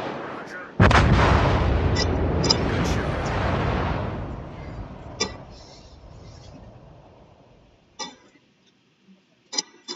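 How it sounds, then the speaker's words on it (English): A heavy naval artillery salvo in World of Warships booms loudly and close, then fades into a long rumbling decay, with sharp ticking game clicks and distant thuds afterward while a voice speaks. "Concentrate fire on the target."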